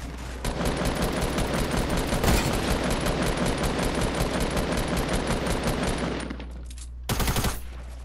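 Dense, continuous automatic gunfire in a Fortnite match rattles on loudly for about six seconds, stops briefly, then one more short sharp burst erupts near the end.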